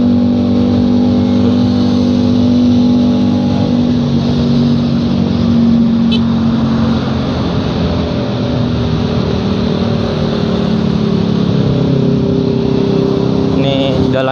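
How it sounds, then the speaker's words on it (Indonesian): Steady, loud engine and exhaust drone from a motorcycle riding through Jakarta-to-Tangerang traffic, a continuous low throbbing roar with wind rush that holds for the whole stretch, with no talk heard over it. "Agak bising ya knalpotnya."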